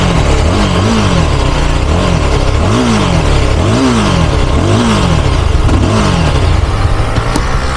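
Loud, close revving of a 2022 Yezdi Scrambler motorcycle engine in a series of sharp bursts, each rising and falling, over a constant rumbling exhaust note.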